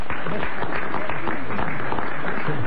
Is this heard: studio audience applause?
yes